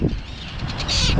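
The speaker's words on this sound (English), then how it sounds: "hear those birds?" Gulls or seabirds at a bird colony call overhead in a short burst, their harsh cries rising over an outdoor rumble of wind.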